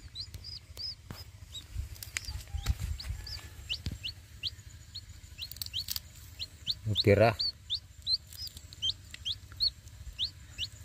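Hens cluck in short repeated calls alongside high chirping chicks, with a brief spoken word and some rustling nearby.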